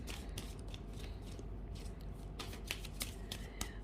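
A deck of tarot-style reading cards is pulled out and shuffled close up, a quick run of soft riffling flicks and snaps over faint background hiss.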